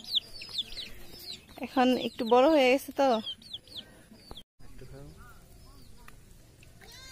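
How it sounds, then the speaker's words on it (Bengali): A local country chicken on a farm clucks repeatedly at close range, with a burst of loud squawking calls in the middle, while a person talks over it. "দেখেন, এটাও একটা দেশি মুরগি।"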